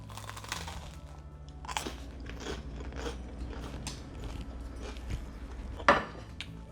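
Crunchy garlic bread is bitten and chewed up close, giving sharp, dry crunches in quick succession, then softer chewing, with one loud crack near the end.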